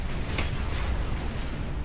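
Artillery cannon fire from ships on the ocean in the strategy game Supreme Commander, heard as a dense, rumbling barrage with one sharper report in the middle, steady and fairly loud throughout.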